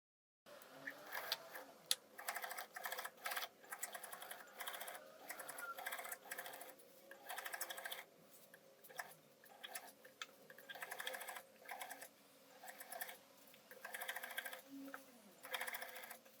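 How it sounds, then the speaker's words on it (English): Sewing machine stitching a dress seam down to the bottom of a skirt at regular stitch length, heard as steady rapid mechanical ticking in repeated bursts with short pauses, moderately quiet and close. "you switch to your regular stitch length and keep sewing till the bottom of the skirt"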